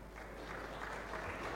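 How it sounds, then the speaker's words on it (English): Conference audience applauding in a hall, a steady even wash of clapping that holds at a moderate level for the whole stretch with no voices over it. "So a big round of applause to you guys here."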